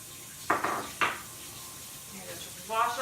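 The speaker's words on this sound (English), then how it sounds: "I just wash off my hands real fast." Hands rinsed under warm running tap water at a sink, with brief splashing bursts and a soft flow, close and moderately quiet, with a short voice-like sound near the end.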